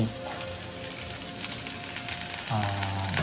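Onions frying in a pan for a Mangalorean ottu shavige and chicken curry meal, a steady close sizzle throughout with brief stirring and scraping near the end.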